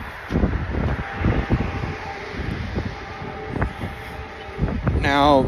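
Strong gusty wind during a wind advisory buffets the microphone outdoors in a loud, continuous rumble with irregular bursts, and a brief voice near the end.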